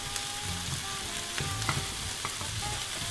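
Garlic and ginger frying with cayenne and cumin in a hot pan, a loud steady sizzle throughout, with stirring scrapes and a faint low hum beneath.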